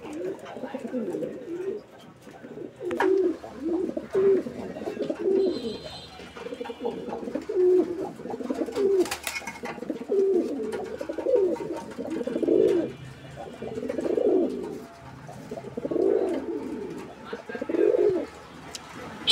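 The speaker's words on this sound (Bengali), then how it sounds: "এটা হচ্ছে ধামাসিন কবুতর একটা জোড়া। আর আপনারা দেখতেই পাচ্ছেন যে নরটা ডাকাডাকি করতেছে" A male Dhamasin pigeon coos over and over in a steady rhythm, each deep rolling coo close by and clearly audible, with a low background hum.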